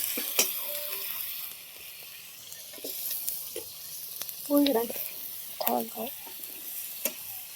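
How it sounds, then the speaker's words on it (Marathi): Onion roasting on a wood-fired chulha stove gives a soft, steady crackle and sizzle with occasional louder pops and scrapes, heard fairly close. Brief background voices come through at times. "आता कांदा भाजून घेते"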